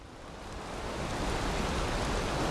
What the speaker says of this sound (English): Of course, it's pouring down raining. Nighttime and pouring raining.